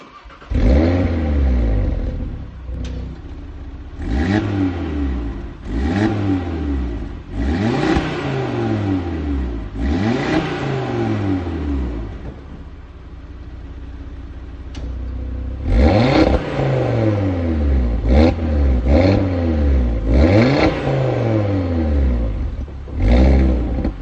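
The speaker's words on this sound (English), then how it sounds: "that was a few revs with the valve module on and then off" An Audi RS3 engine revs repeatedly in short bursts, with its exhaust valve module switched on and then off. Each burst rises and falls in pitch, close and loud, with a brief quieter idle in the middle.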